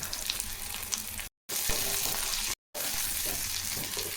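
Shallots and onions sautéing in oil for a roadside-style salna, a steady close sizzle with soft stirring scrapes, broken by two brief dead-silent gaps.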